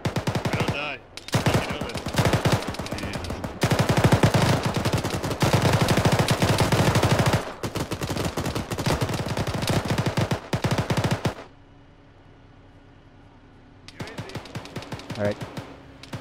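Dense automatic gunfire and rounds impacting around a player in an ArmA-style ShackTac military game, long loud rattling bursts with brief pauses, a quiet lull, then more firing, with a voice talking between shots.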